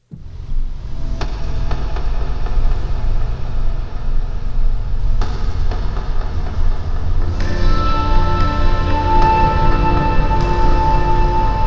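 Sustained tones from an Omnisphere synthesizer patch with a soft organ chord pad behind, the texture shifting and brightening partway through; steady and fairly loud, no voices.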